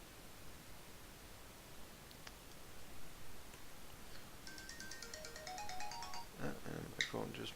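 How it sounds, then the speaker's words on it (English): Phone ringtone going off, a faint electronic melody of short rising tones that starts partway through and grows over quiet background hiss, ending in a few louder beeps. "And my phone just went off."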